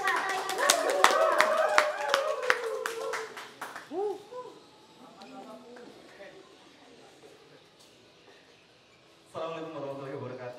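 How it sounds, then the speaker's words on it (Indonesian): A short burst of hand clapping from a small group at a training event fades after a few seconds, followed by voices talking. "Tepuk tangan untuk Pak Thoyib Abdullah."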